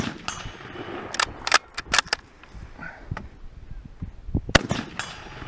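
Sharp gunshots from a Carcano 1891 infantry long rifle in 6.5x52, with a few loud cracks spaced irregularly and softer handling clicks between them, outdoors at close range.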